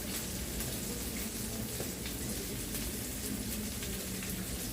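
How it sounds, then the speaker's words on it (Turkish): Anchovies frying in a pan give a steady, dense sizzle and crackle that carries evenly from start to finish, close and continuous with no voices. "Hamsi koydum tavaya da başladım oynamaya."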